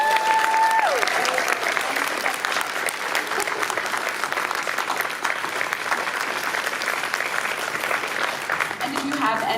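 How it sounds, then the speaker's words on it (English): A convention panel audience claps steadily and loudly for several seconds, a dense sustained applause with a few cheers mixed in, fading slightly toward the end. "Can we give them a round of applause?"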